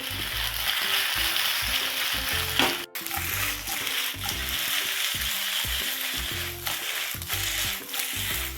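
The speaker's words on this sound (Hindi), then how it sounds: "गैस को मीडियम पे कर देंगे और इन्हें अच्छे से गोल्डन ब्राउन होने तक फ्राई कर लेंगे" Potato slices frying over medium gas in a pan until golden brown, a continuous close sizzle and crackle with a brief stir or clatter partway through.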